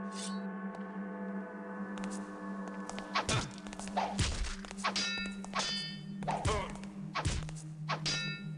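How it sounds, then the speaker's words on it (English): Metallic clangs of a gong being struck in the 1998 game Thief, inside Lord Bafford's Manor, ring out several times with long sustained tones over a steady humming drone, close and loud, with no talk. "he just activated the gong"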